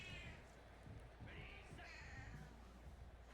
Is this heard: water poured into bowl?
no